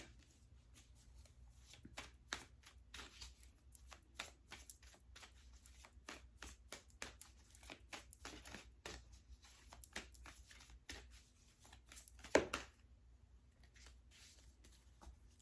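Tarot cards being shuffled by hand: a quiet run of crisp riffling snaps and soft slaps, some bunched and some spaced, with one sharper snap near the end and no talking.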